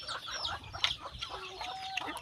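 Chickens, including fighting cocks, cluck on a Thai farm, with several overlapping short clucks and calls nearby at moderate volume.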